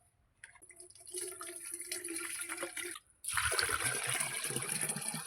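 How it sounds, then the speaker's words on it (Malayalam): Water pours steadily into a pump sprayer tank, a rushing splash that pauses briefly and then resumes more loudly. "ഒരല്പം വെള്ളം കൂടി അങ്ങ് ചേർക്കാം"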